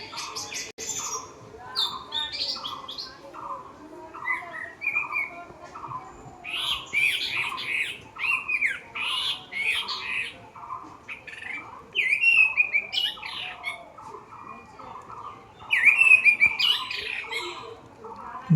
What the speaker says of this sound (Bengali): আর একটা পাখি যাচ্ছে, শুনতে পাচ্ছ?